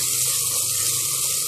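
Water pours into a pan of onions and spices for chicken kofta curry, a close, continuous rushing gush with a steady, even flow for a brief moment.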